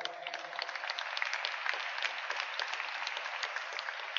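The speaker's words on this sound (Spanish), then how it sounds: "Por favor, un aplauso." An audience at a sermon claps in a dense, steady wash of applause, moderately distant and even, with no talking over it.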